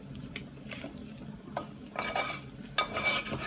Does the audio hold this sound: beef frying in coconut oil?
yes